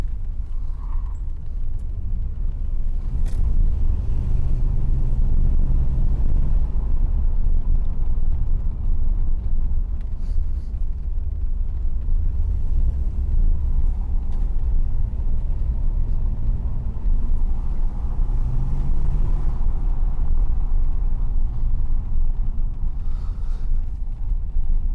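Interior of a 1979 Mercedes-Benz 500 SE W126 on the move, a loud continuous low engine and road rumble with wind noise that swells and eases as the car drives along, with no talking.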